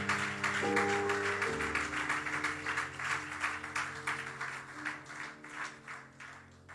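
A church congregation claps for the Lord during a sermon, a steady wash of applause over sustained keyboard chords that shift early on, fading slightly toward the end.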